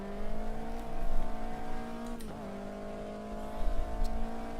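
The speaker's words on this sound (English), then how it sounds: "even I've just turned the volume down of the car, but it still sounds really, really loud" Race car engine from the Automobilista 2 sim racing game at Monza, a steady loud droning whine holding near-constant pitch with a brief dip mid-run, compressed and flat in tone.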